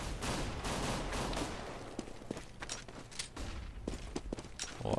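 Counter-Strike gunfire on de_dust2 during a NiP vs. Curse.eu match: bursts of rapid rifle shots and sharp single cracks, with footsteps in between, all moderately loud.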